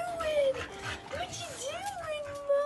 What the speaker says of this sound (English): she was the sweetest dog ever